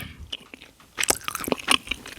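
Close-up chewing of licorice jelly: soft, squishy bites and rubbery chews that come in quick bursts, loudest in the second half, with no talking.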